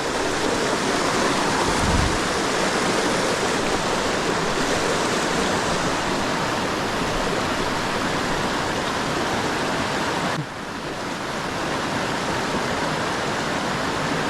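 Steady broadband roar of a waterfall and rushing stream at a fall fishing spot, loud and continuous throughout with a slight drop in level near the end.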